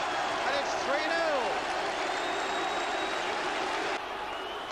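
A stadium football crowd applauds and roars after a goal, a dense, continuous wash of clapping and cheering heard from a distance under a commentator's voice.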